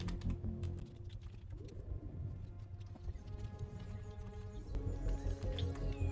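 Cow footsteps in the Cataclysm video game, a steady run of clip-clop hoof steps over a dense low game ambience, with faint bird-like chirps and clicks, no talk.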